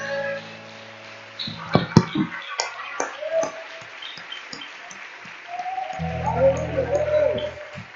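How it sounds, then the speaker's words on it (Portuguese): A church congregation breaks into scattered clapping that builds into sustained applause over several seconds, with a few sharper claps standing out near the start and a brief voice heard over the clapping. "Vamos aplaudir o nome do Senhor."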